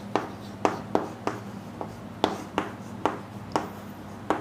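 Pen strokes scratch across paper while the letters Cp are written by hand: a series of quick, close, distinct scrapes in an uneven rhythm, about nine strokes, with no talking.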